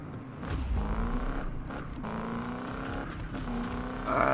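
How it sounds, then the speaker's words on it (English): Hot rod truck doing a burnout in Need For Speed 2015, engine roaring at high revs with squealing, skidding tires, loud and continuous, rising slightly at the end. "So you have to do a burnout, get in the perfect zone"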